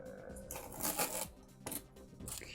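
Packing tape peeled and ripped off a cardboard care package box, a series of crackling, tearing bursts in quick succession, fairly close and moderately loud, with no talking.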